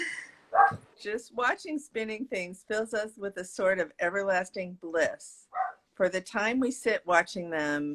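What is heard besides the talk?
dog barking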